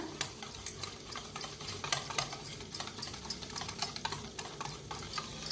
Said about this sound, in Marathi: आता ह्याला बी मिक्स करून घेऊया